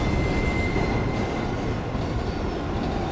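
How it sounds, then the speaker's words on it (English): Train rumbling along in the video game TMNT: Out of the Shadows, with a loud, continuous rolling roar of wheels on rails and a faint thin squeal near the start, no voices. "Sorry, this is the employee train, fellas."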